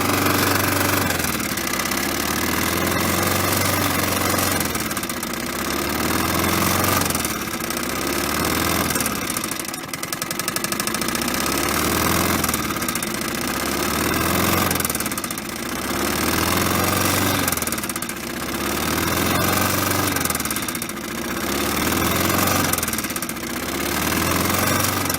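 A worn lawnmower engine that burns oil idles roughly, a loud steady throb with a rhythmic surge and knock every couple of seconds, carrying on by itself without a break.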